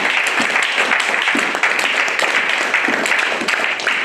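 A church congregation breaks into loud, sustained applause to acclaim the Lord, a dense wash of many hands clapping close and continuous, with scattered cheers and voices underneath.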